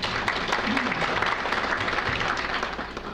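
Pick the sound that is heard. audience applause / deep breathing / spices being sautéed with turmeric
audience applause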